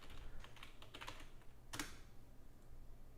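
Keys on a computer keyboard are tapped in a quick, irregular run of soft clicks, fairly close but quiet, followed by a single sharper keystroke and then a lull.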